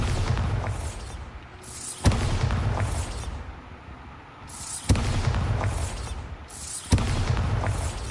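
Bombarda spell blasts in Hogwarts Legacy: four sharp, loud explosions spaced a couple of seconds apart, each a sudden boom that decays into a rumbling, crackling tail.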